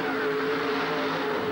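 A drag racing car's exhaust blasts at full throttle after a shift onto nitrous oxide at a 1988 USHRA event in Pittsburgh. The sound is a steady, loud, continuous engine roar with a droning tone, heard alone for a short moment.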